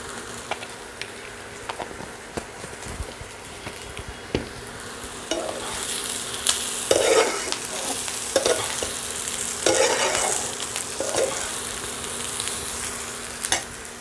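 Capsicum fries in a pan for an orange-flavoured potato dum while a spatula stirs it, sending a steady sizzle with repeated scraping strokes that grow busier and louder midway, close and without talk.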